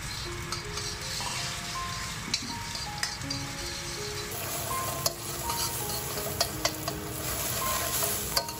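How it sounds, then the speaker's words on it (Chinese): Eggs stir-fried in oil in a hot wok: a steady sizzle runs throughout, with repeated stirring scrapes and light clinks of the utensil against the pan, close and clear. "把鸡蛋炒碎"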